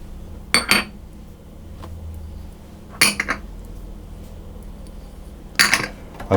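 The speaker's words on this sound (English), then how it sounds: "put all the dry ingredients into a large bowl, and I'm just going to mix those round to get them mixed together" A spoon stirs coconut flour and other dry ingredients in a large bowl, with three short bursts of clinking and scraping against the bowl spaced a few seconds apart and quiet pauses between them.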